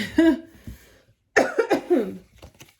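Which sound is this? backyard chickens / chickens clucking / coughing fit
coughing fit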